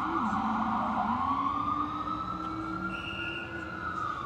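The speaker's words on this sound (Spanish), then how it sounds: "Y por ahí suenan las sirenas. Las sirenas de Nueva York." Emergency vehicle sirens wailing on a New York City street near 34th Street and Sixth Avenue, loud and continuous with rising and falling tones over dense city traffic rumble.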